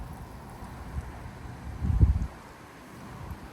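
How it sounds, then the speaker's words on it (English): A strong wind gust sweeps through live oak trees in Frisco, Texas, building to a loud, swishing peak around the middle before easing back to a steady low rush. "The live oaks are literally swishing."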